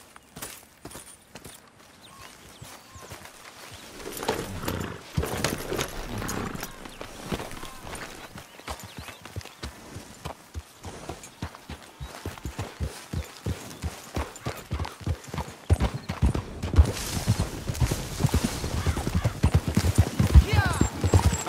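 Galloping horse hooves in the Red Dead Redemption 2 video game, a fast steady clip-clop rhythm that grows louder and denser toward the end, with speech over parts of it.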